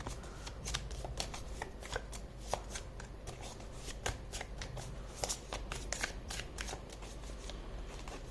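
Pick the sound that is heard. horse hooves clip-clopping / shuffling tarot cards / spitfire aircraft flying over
shuffling tarot cards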